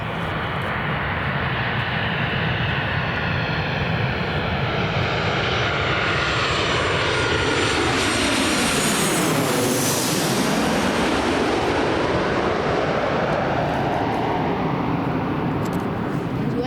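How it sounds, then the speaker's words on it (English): A Boeing 737-8 jet arriving from Alicante passes low over Newcastle Airport. The engine roar is loud and continuous, and its pitch swoops down sharply as the plane goes directly overhead, then fades slowly away. "Boeing 737-8, so wingtips will be up and down, and it's come from Alicante."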